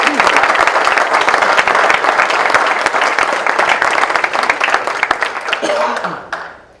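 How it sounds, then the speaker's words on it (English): Audience applause at a United Way of Muscatine 2012 campaign celebration, a dense steady roar of many hands clapping for nearly seven seconds before fading out, with some voices mixed in. "Again, let's give these companies a good round of applause."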